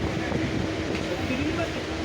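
A moving train near Dakshineswar during Holi, a heard from inside a carriage as a steady, loud, rumbling drone with faint squeals and muffled background voices.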